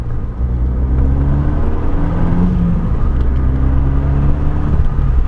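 A turbocharged Renault Megane R26R engine, which does 0 to 100 kph in 6 seconds, accelerates and revs with a loud, steady, aggressive growl that swells through rising and falling pitch, heard close up with no talking.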